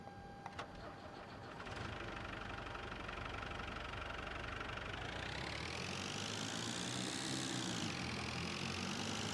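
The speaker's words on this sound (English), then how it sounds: "The other vehicle sound is in this one." An AW 4x4 mod vehicle in Farming Simulator 22 starts up with a few sputters, then its engine settles into a steady, loud mid-pitched drone that climbs and dips in pitch as it revs, with no talking.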